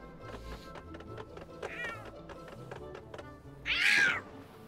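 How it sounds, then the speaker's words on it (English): A cat meows in the Tintin Reporter game, Cigars of the Pharaoh, with a short cry midway and a louder, nearer meow near the end over steady game background clicks. "To catch the cat Tintin, just reach your arm through and pull it"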